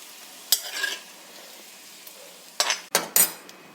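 Small shallots frying and stirred in a pan as a tempering for chicken curry, quiet sizzle broken by several sharp bursts of scraping and clinking from a spoon against the pan.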